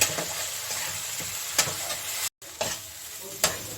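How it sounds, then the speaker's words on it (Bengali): Spices with Kashmiri chili powder and turmeric being stirred and sautéed in hot oil for a rui fish curry with flat beans and potatoes, a steady close sizzle with spoon scrapes and a brief silent gap partway. "একটু কাশ্মীরি লঙ্কার গুঁড়ো দিয়ে দিচ্ছি অল্প করেই দেব আর অল্প হলুদ দিচ্ছে এখন এটাকে আমি কষিয়ে নেব"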